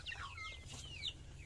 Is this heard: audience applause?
no